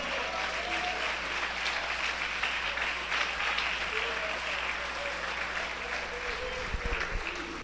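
Church congregation applauds during a sermon, a steady, moderately distant wash of clapping that holds evenly before tapering near the end.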